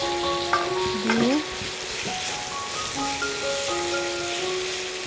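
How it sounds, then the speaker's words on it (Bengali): A steady sizzle of dry spices frying in a pan while being stirred, for a vegetable chicken cutlet mix. Continuous close crackling with scraping stirs, and faint background tones and voices underneath. "এটাকে আমি তার সাথে ভালো করে নেড়ে চেড়ে মিশিয়ে নেব।"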